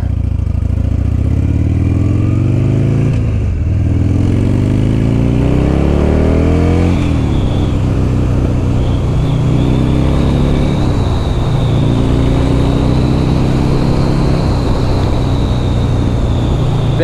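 A 2006 Buell XB12R Firebolt motorcycle's big V-twin engine pulls loud and close through several gear changes, its pitch climbing in repeated rising sweeps, each followed by a brief drop at the shift, with steady wind rush and no talking.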